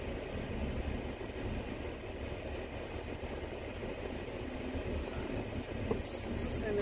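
A car's air conditioning fan blows a steady, broad whoosh inside the cabin on a rainy day, with the hiss continuing unbroken across the moment.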